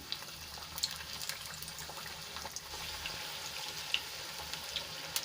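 Hot oil sizzles softly and steadily, with scattered light pops and crackles as pearl millet and fenugreek farsi puris fry; quiet and close, with no voices.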